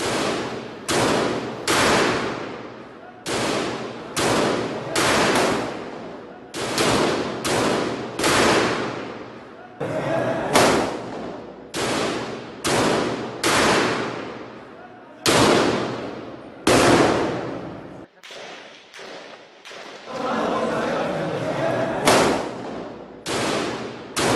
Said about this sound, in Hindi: दहशतगर्दों से फायरिंग का तबादला शुरू हो गया